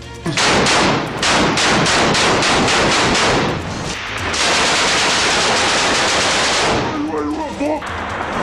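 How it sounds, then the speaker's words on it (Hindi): Heavy gunfire during fighting in Gaza, with dense rapid bursts of automatic weapons fire rattling almost continuously, loud and close, and a brief lull near the end. "दोनों ओर से भीषण गोलीबारी हो रही है।"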